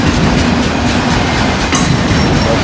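A long freight train with an articulated car rolls past close by, wheels beating a loud, continuous clickety-clack over the rails amid a dense roar.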